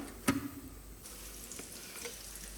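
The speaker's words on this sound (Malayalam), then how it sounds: "അത് അരച്ചൊന്ന് ചട്ടിയിലേക്ക് ഒഴിച്ചു കൊടുക്കാം." Ground paste is poured into a hot pan in a home kitchen, opening with a soft splat. A quiet, steady hiss of sizzling and bubbling follows, with faint clinks, and no one speaks.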